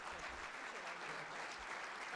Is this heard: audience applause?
yes